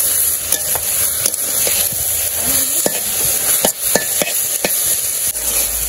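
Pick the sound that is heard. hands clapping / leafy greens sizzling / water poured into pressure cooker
leafy greens sizzling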